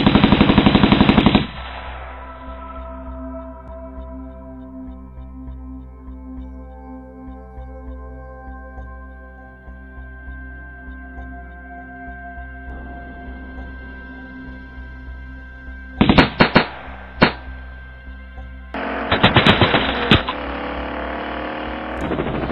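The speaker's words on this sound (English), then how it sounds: "we got shots fired from the Montero" A police robbery animation has gunfire that starts as a burst of rapid shots, then breaks off. Sharp cracks and another dense volley follow later, set over a steady tonal hum, with no voices.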